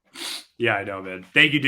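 A sharp sneeze bursts out briefly between bits of casual male conversation, a quick explosive snort of breath followed at once by more talking.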